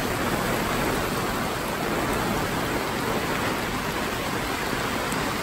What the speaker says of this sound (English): Unbelievable this rain.